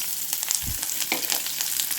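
Onions sizzle steadily in a hot pan, a dense crackling hiss with a brief thump as they are stirred.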